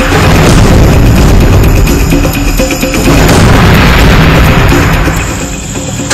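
Loud, continuous booming blasts and heavy thuds roll together as 82 mm to 125 mm mortar rounds fire and explode at close range across the Line of Control in Jammu and Kashmir, with dense rumbling.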